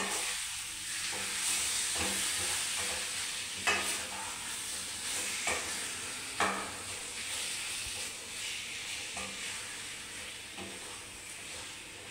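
Chicken fries in a pan with a constant hissing sizzle, broken now and then by light scrapes and knocks as it gets stirred.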